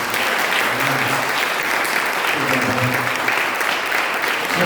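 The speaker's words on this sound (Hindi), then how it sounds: "तेरे जोरदार ताली से यीशु के नाम में।" A church congregation breaks into loud, sustained applause, dense clapping from many people continuing steadily without a break.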